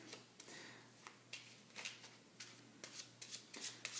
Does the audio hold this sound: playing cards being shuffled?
yes